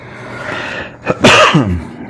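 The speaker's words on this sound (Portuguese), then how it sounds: "Eu tô com uma tosse alérgica que tá me cansando." A single sudden, explosive allergic cough from someone nearby, preceded by a brief inhale and followed by a trailing voiced exhale.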